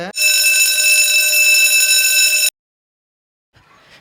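An electric school bell rings loud and continuous for about two and a half seconds, then cuts off abruptly into silence before faint noise returns.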